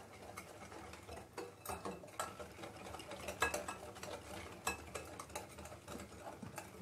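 Ghee being mixed into basbousa cake ingredients in a bowl, giving faint, irregular scraping and light clinking of a utensil with a soft rhythmic stirring texture, quiet and close.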